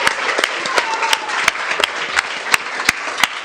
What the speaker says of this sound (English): So a big applause for everyone right here.